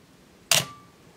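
A Minolta X-370 35mm film SLR body with an MD 50mm f/1.7 lens fires its shutter once at a fast speed, a single crisp close-up mechanical snap with a short ringing tail, alone in a quiet room.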